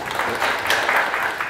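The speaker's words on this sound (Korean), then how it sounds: "큰 박수 부탁드립니다." Brief audience applause at a forum, a short, fairly close burst of clapping from a seated crowd.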